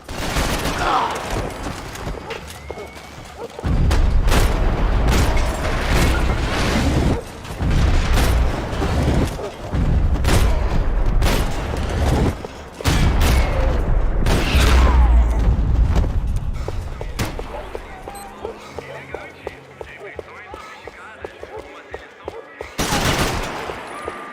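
In the video game Max Payne 3, dense bursts of booming, crackling explosions and rapid popping blasts fill a long stretch, loud and close, with brief lulls between volleys.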